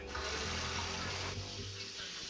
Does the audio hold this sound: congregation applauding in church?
no